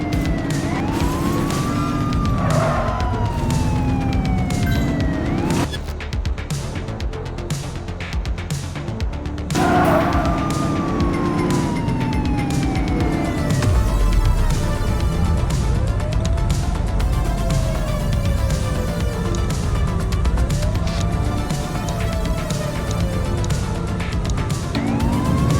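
Police car siren wailing in repeated rising and falling sweeps during a vehicle pursuit in the video game The Precinct, loud over a rumbling engine and road noise, with a brief dip in the middle.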